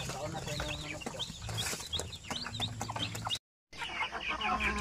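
A flock of 45-day-old native chickens clucks and chirps busily at close range, overlapping calls throughout with a brief cut near the end, with some human voice faintly mixed in.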